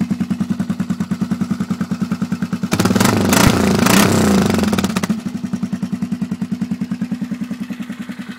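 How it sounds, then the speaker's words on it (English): A 2012 Polaris Sportsman 500 ATV with a homemade custom exhaust idles in a steady, throbbing pulse, then revs hard for about two seconds before settling back to a rhythmic idle, close and fairly loud. "Fired up here for you. I tried some different pipes, didn't like any of them, so I did my own exhaust mod."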